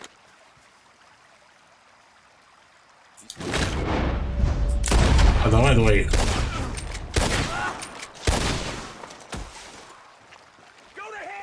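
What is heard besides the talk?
rifle gunshots in Red Dead Redemption 2 video game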